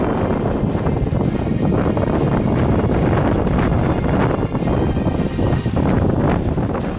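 Strong wind from Cyclone Yaas lashes the Digha coast in a continuous loud roar that buffets the microphone, with no talking.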